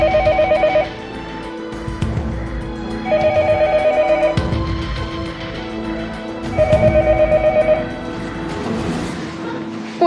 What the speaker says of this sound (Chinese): 不用座机，先打个电话回科室